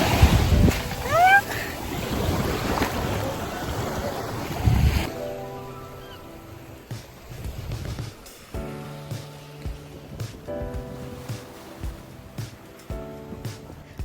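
Ocean surf rolls onto a Maldives beach under heavy wind buffeting on the microphone for the first few seconds. After that, quieter ambience with tonal background music takes over.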